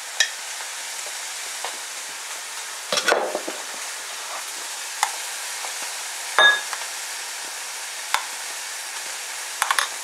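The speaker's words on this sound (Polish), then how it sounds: "Pół na pół mieszam majonez z jogurtem naturalnym." Mayonnaise and natural yogurt stirred together in a bowl for a garlic sauce, with soft scraping and a few faint clinks of the utensil against the dish, close and quiet.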